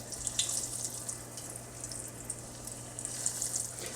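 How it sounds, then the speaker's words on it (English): Fish frying in hot oil in a pan gives a soft, steady sizzle that crackles with faint pops throughout, quiet and unbroken with no talking. "you can hear the sizzle, which is what I want"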